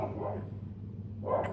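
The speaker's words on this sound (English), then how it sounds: "I'm sorry about the dogs." Dogs bark indoors in two bursts, one at the start and a louder one near the end, with a steady low hum running underneath and no talking.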